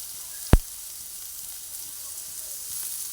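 Smashed boiled potatoes fry in hot oil in a pan with a steady close sizzle, interrupted early by one sharp click or knock.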